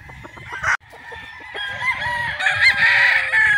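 A Gilmore Hatch gamecock stag, straight-combed, crows loudly and close by in one long drawn-out call, preceded by a few short clucks, with no talk over it.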